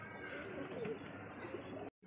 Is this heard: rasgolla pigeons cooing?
yes